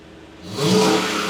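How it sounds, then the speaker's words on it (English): A Lexus GX460 V8 with a custom exhaust, valve closed, revs up from a low idle to a fuller, louder roar over about a second, close by. "All right, so I'm gonna rev it up closed."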